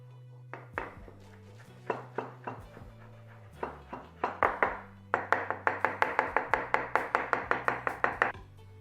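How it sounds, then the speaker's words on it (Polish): Knife finely chopping cooled spinach on a cutting board, close and distinct: irregular taps at first, then a fast, steady run of about twenty even strokes toward the end, no voices. "I drobniutko kroimy."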